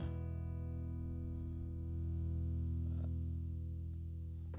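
Electric guitar played through a Headrush MX5 amp modeler in a low-gain tone, a sustained chord ringing steadily with slight grit and a couple of faint pick noises.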